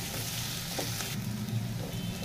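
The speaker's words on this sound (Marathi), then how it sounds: "ते पण कांदा बरोबर परतून घ्यायचं आहे" Onion, garlic cloves and ginger sizzle steadily as they are sautéed in a pan for matar paneer, a continuous close frying hiss with faint stirring scrapes and no speech.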